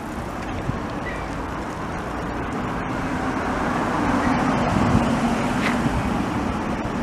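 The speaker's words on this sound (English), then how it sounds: "Oh, look, a truck." A Hino truck passing in evening street traffic on Park Avenue in Montreal: a steady, loud engine rumble and road roar that swells slightly toward the end, with no speech over it.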